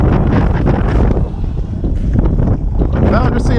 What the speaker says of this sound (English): the wind's picked up a little bit more than they said